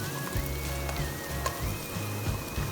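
Chopped scallions sizzle in hot olive oil in a pan, a soft, steady crackle at low volume. A faint tonal hum and a few small clicks sit in the background.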